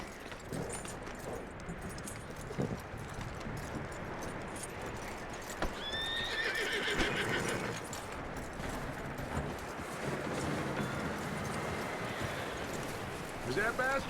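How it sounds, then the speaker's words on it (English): A horse in the Red Dead Redemption II video game whinnies and snorts while its hooves clop and tack jingles nearby, with a loud neigh midway and steady movement throughout. "That looks like a decent horse."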